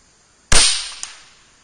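A single sharp shot from an Air Venturi Avenger .25 air rifle fired at a target 76 yards downrange, a loud crack with a brief echo trailing off, heard alone without talk.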